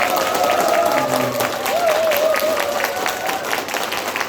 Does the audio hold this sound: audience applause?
yes